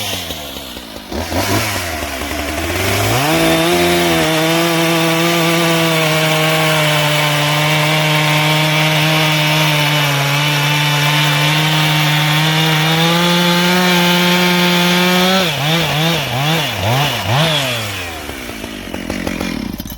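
A Husqvarna 575XP chainsaw with a freshly sharpened chain revs up and bites into an ash log, a loud, steady, high-pitched whine held for about twelve seconds before revving down and sputtering.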